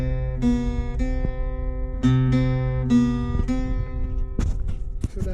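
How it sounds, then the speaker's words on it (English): An acoustic guitar loop of plucked, ringing notes repeats in a steady rhythm throughout a song, with sharp string attacks, close and clear, with some brief percussive clicks near the end. "There's a loop that goes on in the whole song which sounds like this."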